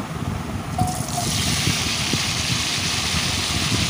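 Washed, drained cut potatoes go into hot oil in a kadai, a sudden burst of broadband frying hiss that swells after the first second and then holds steady and loud for several seconds, with no talking.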